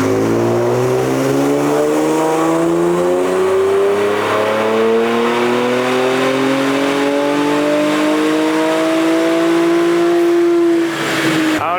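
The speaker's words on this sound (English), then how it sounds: "Here's a factory run on a 2016 Infiniti Q50." A stock 2016 Infiniti Q50 with a VR30 engine and aftermarket intakes runs on a dyno, its engine note rising steadily through one long loud pull before cutting off sharply at the end.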